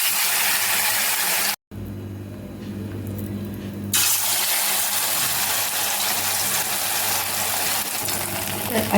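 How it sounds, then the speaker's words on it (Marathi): Sabudana vada (sago fritters) frying in hot oil, a steady broadband sizzle that runs throughout with a brief cut near the start, alongside a low mechanical hum. "तर अशा प्रकारे मी साबुदाण्याचे वडे तळून घेऊ."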